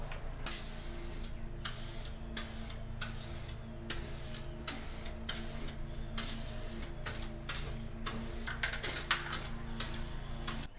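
Repeated bursts of spray paint hissing, each lasting a second or so with short pauses between, over a steady low hum in the background.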